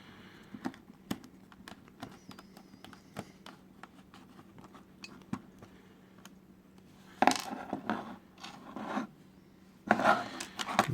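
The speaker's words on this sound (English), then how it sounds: "I've got this special screwdriver for opening these up" A special screwdriver opens a Game Boy Game Pak cartridge: sparse small plastic clicks and taps, then louder scraping and handling of the plastic shell near the end.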